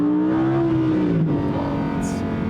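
A sports car engine, either a new Audi R8 or a Porsche 911 Turbo S in dynamic mode, revs as it downshifts, its tone rising then dropping as gears change, loud and close inside the cabin without talk.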